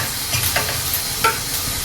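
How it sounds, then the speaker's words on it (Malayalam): Chopped garlic frying in a pan for a chickpea curry tempering, giving a soft, steady sizzle with a few brief stirring scrapes, close and alone. "വറുത്തിടാൻ ഞാൻ വെറും വെളുത്തുള്ളി അരിഞ്ഞതാണ് എടുത്തിരിക്കുന്നത്"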